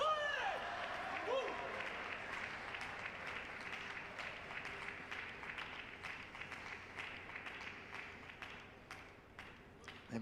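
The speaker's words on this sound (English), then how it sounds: "They're still clapping." Audience applause and clapping at a Paralympic table tennis final in Rio 2016, sustained, steady and moderately distant, with a commentator talking over it.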